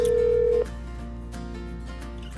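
Phone call placed on speakerphone: a steady dial or ring tone for about half a second, then a quieter line hum and faint clicks as the call connects.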